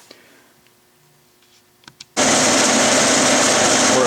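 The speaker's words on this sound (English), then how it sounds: "Then I'm going to put it back in the lathe and face it to that layout line" A metal lathe facing a pulley part: near-quiet shop ambience with a few faint clicks, then a loud, steady cutting whine and hiss starts abruptly about halfway through and continues without a break.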